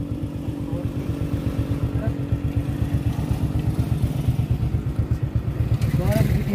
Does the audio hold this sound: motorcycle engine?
yes